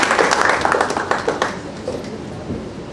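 An audience at a ceremony honoring Pankaj Singh Thakur with a community pride award bursts into loud clapping that gradually thins and fades over about three seconds.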